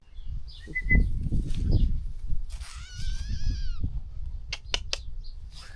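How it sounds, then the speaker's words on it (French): Several high, thin kitten meows close by, a few short cries and one longer wavering mew, over a low rumbling background. "il y a des bébés chats juste ici"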